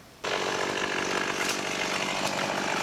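A chainsaw bites into wood in a garden, starting abruptly after a brief quiet moment and then holding a loud, steady, close buzzing whine without a break, with no voices.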